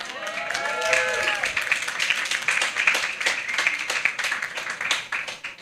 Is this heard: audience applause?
yes